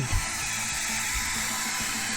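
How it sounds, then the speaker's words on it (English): A blow dryer blasts steadily at close range while drying acrylic paint, a loud continuous broadband whoosh with a low motor hum underneath and no talking. "Screw you, blow dryer."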